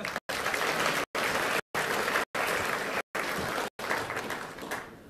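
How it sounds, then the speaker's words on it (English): Steady audience applause at a video game conference, broad clapping that continues through several brief dropouts and tapers off at the end. "a round of applause for Bertie, please"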